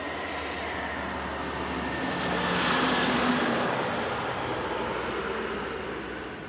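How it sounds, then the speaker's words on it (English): A truck passing by, a broad roaring wash of road noise that swells to a peak midway and then slowly fades away, with no talking. "so there's going to be another truck coming."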